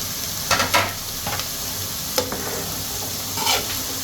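Chopped onions and vegetables sauté in butter on a low gas flame, a gentle steady sizzle with several scraping stirs of a spatula in the pan, close by.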